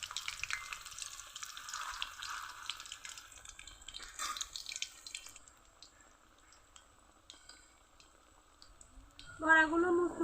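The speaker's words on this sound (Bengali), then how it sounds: "বড়াগুলো মুচমুচে করে ভেজে নিতে হবে," Radish fritters (mulor bora) fry in oil with a soft, steady crackle that fades quieter midway, with a few light utensil clinks and a brief louder stir near the end.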